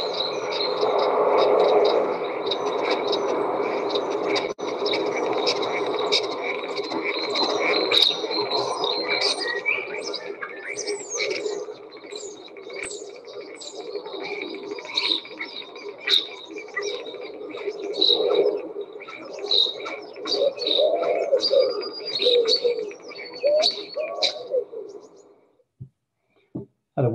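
A starling sings a long, busy, chattering song of whistles, clicks and rattling notes that mimic other birds, close and continuous before stopping abruptly near the end.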